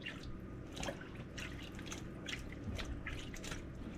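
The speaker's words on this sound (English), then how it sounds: "I'm just gonna submerge these into the cold water" Staghorn sumac being submerged and rinsed in a container of cold water, giving faint, soft dripping and gentle sloshing sounds over a low steady background, with no voices.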